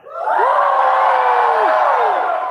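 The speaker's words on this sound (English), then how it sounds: "If you knew Rachna already before today, scream now" A live debate audience screams and cheers on cue, a loud, sustained wall of crowd noise with rising whoops that holds steady for about two seconds.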